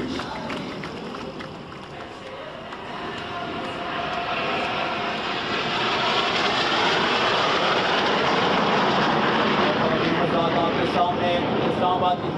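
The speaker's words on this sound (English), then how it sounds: "एक खतरनाक मुजाहरे के लिए उस फॉर्मेशन के अंदर से अमूदी सिंध में परवाज करता ये सऊदी हॉक का एक खूबसूरत मुजाहरा" Saudi Hawk jets in air show formation roar overhead at an Independence Day display in Islamabad, a broad steady engine rush that swells louder over the span, with a commentator talking over it.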